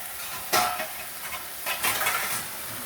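A fish head goes into a pan of cooking greens with little oil and is stirred, a couple of sharp sizzling hisses and scraping utensil sounds against the pan, close and brief, with no talking.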